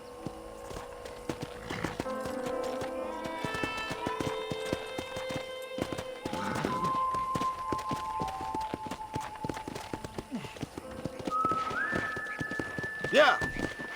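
Horse hooves clip-clop at a steady walking pace through a Red Dead Redemption ranch town, set amid game music and background ambience, with a voice talking over the steps.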